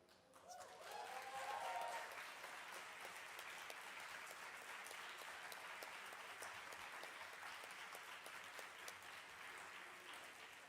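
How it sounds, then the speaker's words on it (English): Audience applause at a human rights and climate justice gathering builds quickly into steady, sustained clapping that fills the hall and continues evenly at moderate distance. "And you're applauding"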